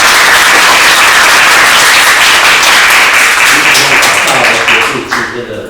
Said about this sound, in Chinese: 我们再次用掌声鼓励